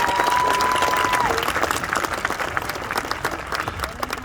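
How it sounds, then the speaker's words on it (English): Graduates and families at a 2021 high school graduation ceremony break into loud, dense applause with a few cheers, holding steady before slowly tapering; a sustained tone sits under the first second. "so give yourselves a round of applause."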